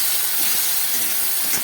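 Shrimp hit a hot pan with spices and sizzle loudly, a dense, close, steady hiss with faint crackles throughout.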